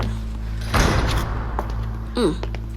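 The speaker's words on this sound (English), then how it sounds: "Oh my god, that door." A door slams shut with one loud, close thump, followed by a short rattle and a brief squeaky creak as things settle.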